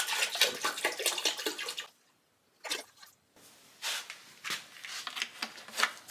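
Citric-based descaling solution sloshing and gurgling as it is poured into a hose for tankless water heater descaling, in bursts with a brief pause partway through, close and fairly quiet.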